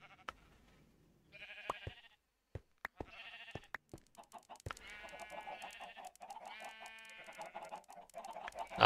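Chickens in the Minecraft video game clucking in short bursts, with scattered sharp clicks between them and the calls growing busier and more layered toward the end, fairly quiet overall.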